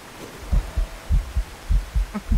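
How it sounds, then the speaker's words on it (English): A heartbeat thumps in the horror video game SOMA, a steady lub-dub pulse of paired low thuds repeating about every half second, loud and close over a faint hum. "that heartbeat every single time I think it's in the game"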